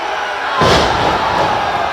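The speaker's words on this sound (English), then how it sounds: "A huge missile drop kick from Alexander Hammerstone." A wrestler's missile drop kick off the top rope lands in a steel-and-wood wrestling ring, giving one loud broad slam that sets off a swell of crowd noise and cheering under a steady arena roar.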